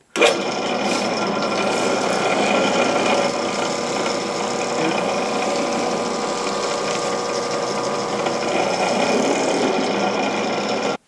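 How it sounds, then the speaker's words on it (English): A Bauer drill press drills holes through baseballs, its motor giving a loud, steady mechanical whir that runs unbroken and close for the whole stretch. "So we drilled holes in 20 baseballs"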